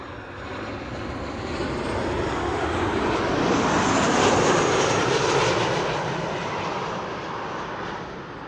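Airliner arriving at Amsterdam Schiphol from Zurich, a Boeing 737-800: a broad, loud jet roar that swells toward the middle and slowly fades, heard alone without voices.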